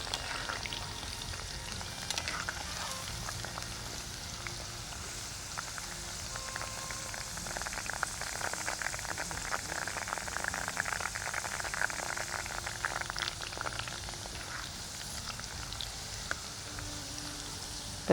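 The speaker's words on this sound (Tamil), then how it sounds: "இப்போ பாருங்கள் நல்லா பொரிஞ்சிருச்சு வெண்டைக்காய்." Steady sizzling and crackling of okra frying in hot oil, a dense popping hiss that continues throughout without talk.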